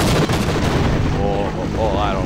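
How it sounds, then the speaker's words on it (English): Gunfire in Half-Life VR, heavy booming shots rolling together into a loud continuous barrage, with a brief warbling tone near the end. "Where did the shooting noises go?"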